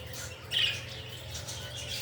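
Pet birds, including a black mutation, let out a short high chirp over a steady low mechanical hum, with faint twittering continuing in the background.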